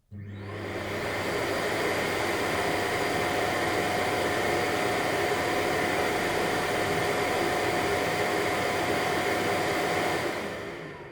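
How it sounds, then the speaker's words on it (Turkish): Dreame L40 Ultra robot vacuum docking station running its automatic dust emptying, a loud steady suction roar with a high whine that holds constant for about ten seconds and then cuts off, with no talk over it. "Otomatik toz boşaltma başladı."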